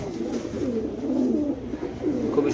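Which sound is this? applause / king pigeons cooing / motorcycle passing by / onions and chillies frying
king pigeons cooing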